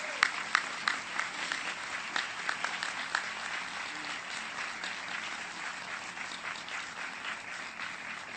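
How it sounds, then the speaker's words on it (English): A crowd at an outdoor park dedication ceremony gives sustained applause for a school chorus from PS 22 in Staten Island, with many hands clapping steadily and densely at moderate distance, with no voices standing out. "one more round of applause, please, for the chorus from PS 22 in Staten Island"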